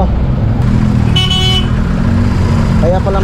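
Road traffic heard from a motorcycle, with loud wind and engine rumble throughout, one clear horn toot near the middle and another short honk near the end.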